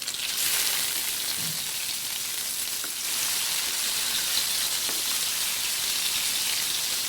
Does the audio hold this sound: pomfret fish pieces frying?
yes